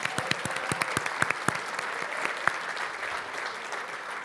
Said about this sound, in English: Let's give him a quick round of applause.